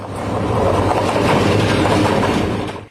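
A train rolls along railway tracks with a steady, loud rumble and rhythmic clickety-clack of wheels over rail joints, sustained throughout before cutting off abruptly at the end, with no voices.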